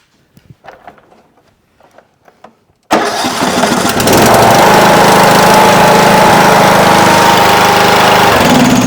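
Troy-Bilt Pony riding mower engine, after quiet handling noises, abruptly catches and starts, then roars loudly and steadily at close range, settling into a continuous run.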